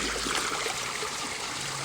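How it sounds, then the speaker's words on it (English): Excess water spilling over an overflow from an upper koi pond into the bottom pond, a steady, close trickling and splashing flow that continues evenly throughout. "This will top up the bottom pond because all the excess water flows to the bottom pond"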